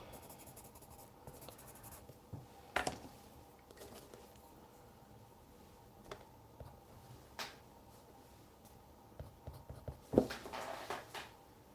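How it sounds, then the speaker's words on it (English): Colored pencils scratching across Fisher 400 sanded paper, a faint, soft, continuous scraping with scattered strokes and a few sharper taps, close and quiet, no talk. "that is Fisher 400 sandpaper, and I will do that painting with colored pencils"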